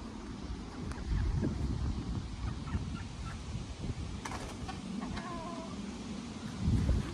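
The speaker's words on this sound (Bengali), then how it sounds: "যে মুরগি যাচ্ছে কবুতরের ঘরের ওইখানে" Five backyard chickens in a US garden coop make low, burbling clucks and murmurs at a moderate distance, with steady outdoor background noise and a few faint, sharper calls over the top.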